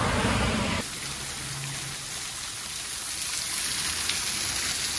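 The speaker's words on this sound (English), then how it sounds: "Wasn't raining at all, and then I landed, and then it starts pouring down." Heavy rain pours down steadily as a dense, even hiss in Dundee, with a louder burst at the very start before settling into a constant downpour with no talking.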